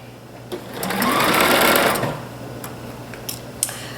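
A sewing machine stitches a seam on a pleated blouse, running in one smooth, steady burst of just over a second. Faint handling noises follow it.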